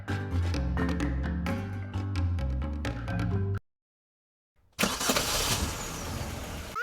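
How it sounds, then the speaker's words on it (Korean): In the game Trickcal Revive, an engine rumbles indoors, a loud steady mechanical drone that cuts out abruptly to silence, then returns as a rougher revving roar. "어째서 실내에서 엔진 소리가?"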